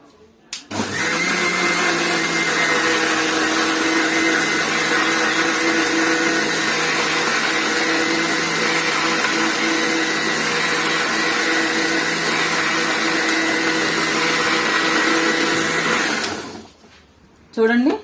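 A mixie grinder whirs steadily for about sixteen seconds as it grinds poppy seeds into a masala paste for a stuffed chilli curry, loud and close, switching on abruptly, then stopping with a brief clatter at the end.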